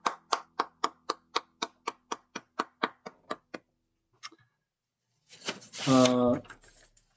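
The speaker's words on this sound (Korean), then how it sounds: "하나님께 영광의 박수 올려드리겠습니다" Slow, evenly spaced claps in church, about a dozen crisp hand claps in a steady rhythm, then a pause before a voice speaks loudly.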